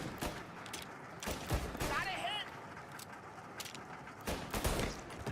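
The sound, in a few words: gunshots in the video game Mafia Definitive Edition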